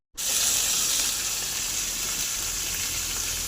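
Ginger garlic paste frying in a hot pan for okra dopiyaza, giving a loud, steady, continuous sizzle with no talking.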